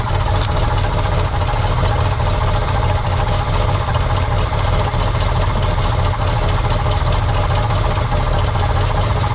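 A 1963 Pontiac Catalina engine idles at low RPM, a loud, steady, close rumble with a continuous low throb and no pauses.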